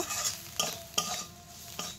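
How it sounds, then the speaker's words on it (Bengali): Onions with mixed spice powder sizzle in a frying pan, broken by a few sharp scrapes of a spatula stirring them at irregular intervals. "এবার দিয়ে একটু ভালো করে পেঁয়াজগুলো ভাজা ভাজা করে নেব"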